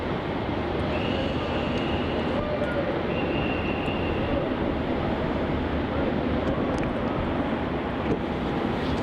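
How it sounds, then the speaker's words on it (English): A Qantas jet bound for Sydney spools up for takeoff on runway 34 at Melbourne Airport, a steady, distant engine roar holding constant for several seconds, with faint voices in the background. "looks like that Qantas flight to Sydney is spooling up now"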